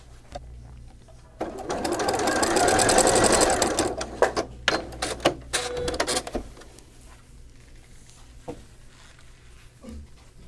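A sewing machine stitching fleece seams on a lined toque, running in a fast steady whir for a few seconds, then stopping and starting in short bursts with clicks, close by and loud.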